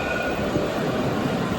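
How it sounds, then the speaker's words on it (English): A tram rolls past on the street in Casablanca, a steady close rumble of wheels on rails filling the whole moment with no voices. "I've got the tram system going along."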